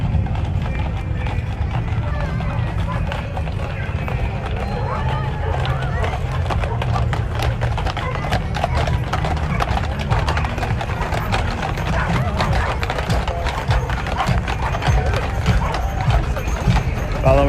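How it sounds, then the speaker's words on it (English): Clydesdale horses pull a parade carriage in a December street parade in Annapolis, Maryland, their hooves clip-clopping steadily on pavement amid crowd noise while a commentator talks throughout. "There are several hitches of teams of Clydesdales that travel around the United States."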